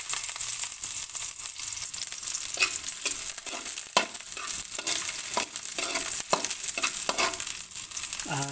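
Onions saute in a pan with a steady, close sizzle and crackle, broken by scraping stirring strokes at irregular intervals, with no talking.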